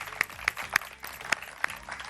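A studio audience on a morning TV show gives scattered, fairly faint applause with a handful of distinct sharp claps spaced through the moment.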